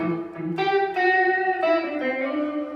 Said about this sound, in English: On the trem side, we can go dial in some vibrato.